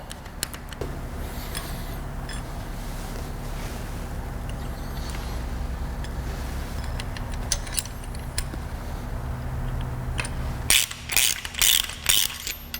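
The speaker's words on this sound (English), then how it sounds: "I'm just going to snug these up for now. Not take them to the final torque." Ratchet snugging up roller rocker nuts on an engine: a low steady background hum gives way near the end to several loud, close bursts of rapid clicking.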